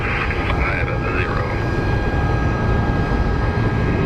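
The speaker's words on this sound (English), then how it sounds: "Then we have Alaska Airlines headed to Boston." An Alaska Airlines Boeing jet airliner at Phoenix Sky Harbor International Airport, with a continuous loud engine rumble and a faint whine, while radio chatter and voices sound over it.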